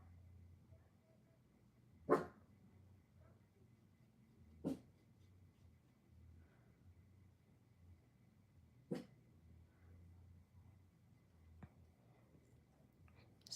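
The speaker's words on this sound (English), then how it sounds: "I have to excuse the dog" A dog named Yuki gives a few single sharp barks spaced seconds apart in a quiet room, with faint whimpering and breathing in between.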